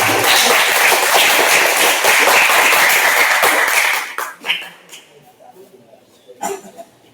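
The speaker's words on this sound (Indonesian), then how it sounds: "Tepuk tangan untuk kelompok 5." A classroom group of students gives dense, loud applause for a student group after their presentation, which lasts about four seconds and then fades to scattered claps and quiet room noise.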